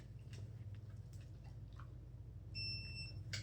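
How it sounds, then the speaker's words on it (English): A short, high electronic beep sounds near the end, clear over quiet background rustling and a few soft clicks. "coming back to me at the sound of that beep"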